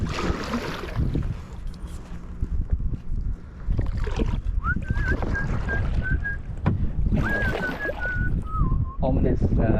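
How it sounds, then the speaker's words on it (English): A person whistles a few wavering tones in a river canyon on a canoe trip, over heavy wind and water noise, the whistle rising and falling in two short phrases with brief talk around it. "Ominous, ill-fated whistling. Just echoing through the canyon."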